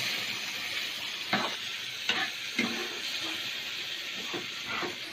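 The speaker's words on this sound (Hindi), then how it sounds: "अब हम इस प्याज को लाइट ब्राउन होने तक भूनेंगे।" Onions fry in a pan on the way to light brown, a steady loud sizzle and hiss close by, broken by several sharp scraping stirs, with no talking.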